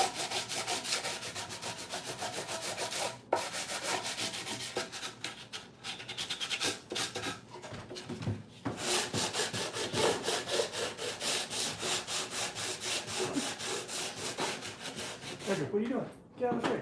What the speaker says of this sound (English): I'm going to be sanding.